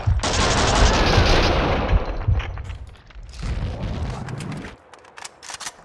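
Gunfire in Max Payne 2, a dense burst of shots and booming impacts loud for the first few seconds, then a second flurry of firing that trails off into sparser pops.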